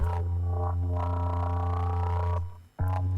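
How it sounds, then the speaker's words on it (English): A synth tone opens a K-pop group's track, held as a steady, bright sound with a deep bass core. It cuts out briefly near the end, then returns. "the first sound you hear is this synth sound"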